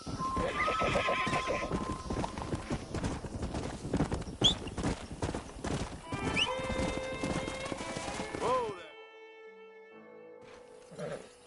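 A horse in the Red Dead Redemption video game clip-clops along with rapid hoofbeats, then lets out a loud whinnying neigh, the hooves close and busy before the sound drops away.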